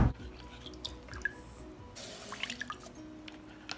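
A cheap makeup sponge is dunked into a container of water, giving soft drips and squishy splashes close by, with faint clinks and low background rumble.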